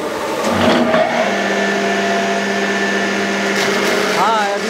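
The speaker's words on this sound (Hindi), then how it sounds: "अभी ये टायर बफिंग हो रहा है।" A tyre buffing machine works on a tyre at a retreading shop, giving a steady, loud mechanical whine and grinding drone that holds throughout, with a brief rising squeal near the end.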